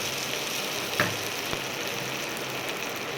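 Cabbage frying in a pan, giving a steady, loud, close sizzle with one brief clack partway through and no voices.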